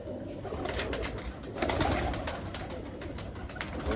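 Pigeons coo steadily and close by, their soft throaty calls running throughout over a constant rustling background noise.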